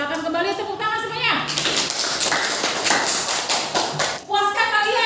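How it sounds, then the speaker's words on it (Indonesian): A class of children claps hands together in a busy, loud burst of rapid clapping lasting a few seconds, framed by someone speaking before and after. "silakan kembali tepuk tangan semuanya."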